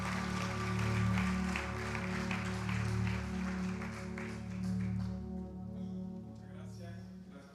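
Church congregation applauding in worship, a steady broad wash of clapping with a sustained low organ or keyboard tone beneath, fading somewhat toward the end.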